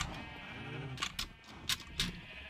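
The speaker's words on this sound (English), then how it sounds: "Sheep." Sheep in the game Minecraft give a short bleat, followed by a few soft taps or steps, quiet and close, with no voices present.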